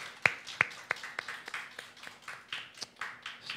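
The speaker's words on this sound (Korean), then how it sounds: "박수로 한번 축하하겠습니다" A church congregation claps in celebration, a sparse scattering of individual hand claps at an uneven rhythm, a few sharp close claps standing out among softer ones, fairly quiet overall.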